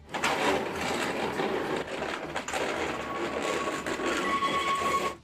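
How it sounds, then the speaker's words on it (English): A train creeping at about 19 miles per hour through a street market, squeezing past vendors' stalls with awnings folded back; a steady, loud rumbling rolls on throughout, with a faint whistle-like tone near the end. "When a train is scheduled to pass, it approaches at a speed of 19 miles per hour"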